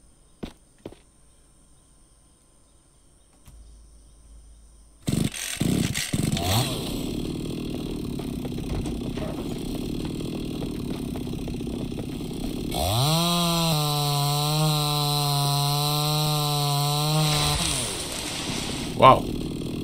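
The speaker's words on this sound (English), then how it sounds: "I'll do the chainsaw." A chainsaw in the survival game Mist Survival starts up partway through and runs at a steady, loud buzzing drone for about five seconds before cutting off, over a constant background hiss.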